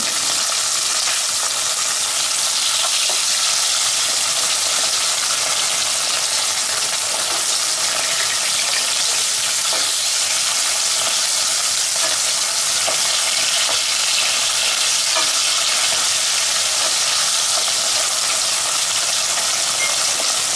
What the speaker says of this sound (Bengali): এবার সাবধানে উল্টিয়ে অন্য পাশটাও একইভাবে ভেজে নেব।